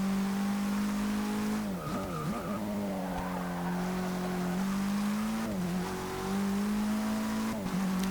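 Front-wheel-drive race car in Forza Motorsport 6 holding a steady, loud engine drone with pitch dips and rises as it shifts and corners, plus brief tire squeal around the turns.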